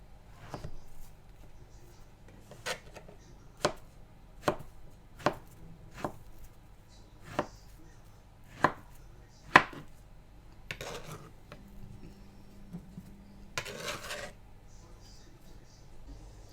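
A knife chops through steamed frozen taro on a board in a slow, even series of about ten sharp thuds, close by, with a few rustling handling noises.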